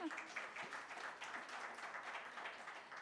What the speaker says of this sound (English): applause are more than welcome